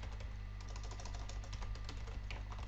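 Fast, light typing on a computer keyboard while coding a Java plugin, a dense run of soft key clicks over a low electrical hum, close and quiet.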